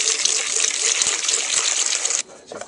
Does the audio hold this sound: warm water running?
yes